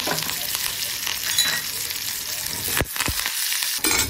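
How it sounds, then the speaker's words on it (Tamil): Mustard seeds, green chili, medium onion and curry leaves sizzle steadily in hot oil, a dense close crackle with a brief stir-like break near the end; no talking. "கருவேப்பிலை போட்டுக்கோங்க"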